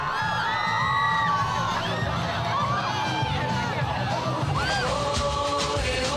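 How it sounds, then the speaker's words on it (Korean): A crowd cheers and yells for a wheelchair dance performance, a dense, continuous wash of shouts and whoops, some high and piercing, with a low rumble beneath. "절묘한 호흡에 여기저기서 응원의 함성이 터져 나온다."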